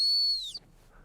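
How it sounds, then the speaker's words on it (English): Dog training whistle blown once for a sit command, a loud, shrill steady tone held about half a second before cutting off, followed by faint quiet room noise. "Now you'll notice even when he's just at my feet, I always use that whistle."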